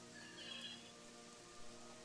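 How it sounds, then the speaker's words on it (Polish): Steady, faint rain hiss falling in the Gothic 3 video game world, a soft continuous wash with no voices. "W ogóle ten deszcz, który tutaj pada, go nawet nie widać"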